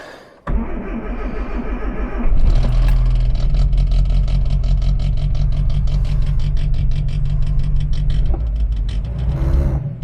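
A Morris 1300 barn-find car's engine catches after a brief crank and settles into a steady, loud idle, running continuously close by as it warms up.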